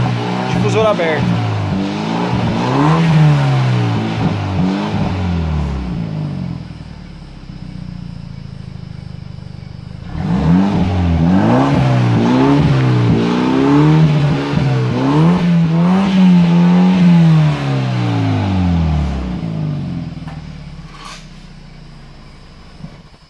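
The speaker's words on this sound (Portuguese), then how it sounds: "Agora o som com o difusor aberto." A BMW 320 with an Akrapovic sport exhaust and its diffuser open revs up loudly in repeated rising and falling bursts, with a short lull in the middle before a second set of throttle blips.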